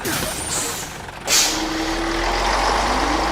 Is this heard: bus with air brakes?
yes